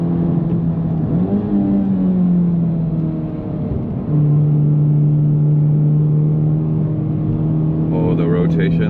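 A car's engine hums loudly and steadily from inside the cabin while it is driven, the note dipping briefly then rising again into a sustained drone.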